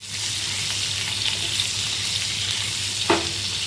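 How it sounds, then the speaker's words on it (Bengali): Dried Bombay duck fish, soaked and cut, frying with salt and turmeric in a pan gives a steady, close sizzle throughout, with a brief sharper crackle near the end. "তো আর একটু নুন, একটু হলুদ দিয়ে ভেজে নিচ্ছি।"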